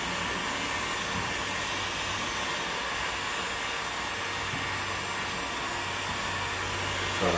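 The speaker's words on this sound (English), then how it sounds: "When you're using a heat gun like this, you can see how hot it is." Heat gun blowing steadily on a kitchen countertop, a constant loud whooshing roar with a fan hum, unbroken throughout.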